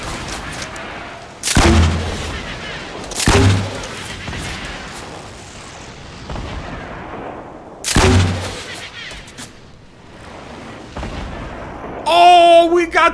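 Pumpkin launcher rockets exploding in Fortnite: three loud booming blasts spaced a few seconds apart, each trailing off, followed by a brief burst of game effects at the end.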